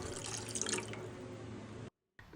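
Water is poured into the masala for a halwa fish curry, a steady, close, gushing stream that stops abruptly, followed by a brief silence and a short final splash.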